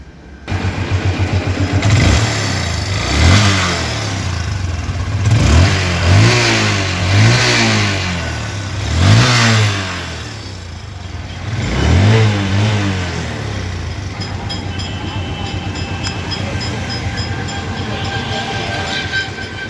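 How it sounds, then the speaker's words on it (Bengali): A Hero Ignitor 2022 motorcycle engine runs steadily close by, blipped through about six sharp revs in the first half, then settling back to a smooth, even idle. "এখন আপনাদেরকে ইঞ্জিনের সাউন্ড শোনাবো।"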